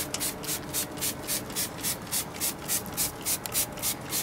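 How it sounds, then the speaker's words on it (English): A spray bottle mists diluted SunGold cleaner onto a long-dry hydroponic reservoir, giving about fifteen quick, even hissing spritzes in a steady rhythm, close and fairly loud, with no talking. "all we're going to do is spray the reservoir with the SunGold product"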